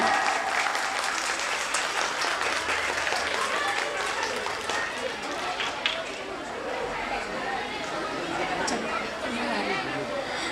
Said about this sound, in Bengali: পূজার জন্য জোরে হাততালি।